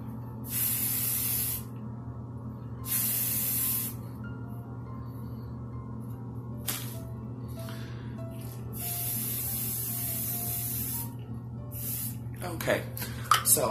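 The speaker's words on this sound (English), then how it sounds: "just give it a gentle spray." Several short hissing bursts of an aerosol hairspray, close by, with pauses between them over a steady low hum.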